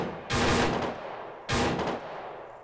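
Two sharp, loud gunshots from the video game Arma 3 crack about a second apart, each followed by a rolling, echoing tail that fades out, during a tower siege.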